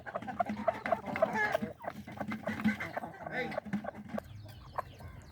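Chickens and a large rooster clucking close by in a farmyard, with a run of short repeated clucks and calls at varying pitches, and a voice talking at times over the birds.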